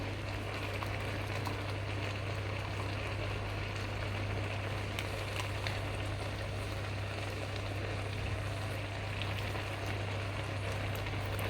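Crab being stir-fried with curry powder in a hot pan gives a steady, dense sizzle and crackle that runs unbroken throughout, with a low constant hum beneath it.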